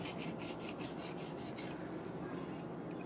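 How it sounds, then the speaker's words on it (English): A Japanese chisel rubbed flat against a sharpening stone gives a steady, close rasping scrape that pulses in quick back-and-forth strokes at first, then settles into a smoother continuous grinding hiss. "just get it nice and flat on the stone"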